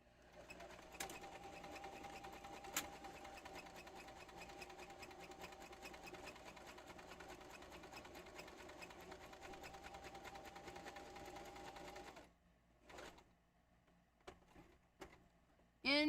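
Sewing machine stitching through a quilt, a steady continuous whir for about twelve seconds before stopping, followed by a few faint knocks and handling sounds.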